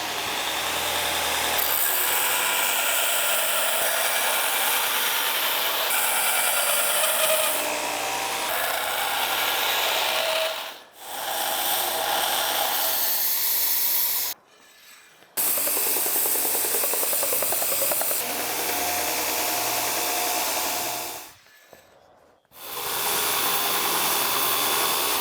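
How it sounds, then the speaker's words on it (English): Loud, continuous abrasive roar of a belt grinder working a Damascus steel triangle on a coarse 36 grit belt, running steadily with two brief pauses where the grinding drops out before resuming. "we'll start off on a 36 grit belt, and then go to a 60, and then a 120"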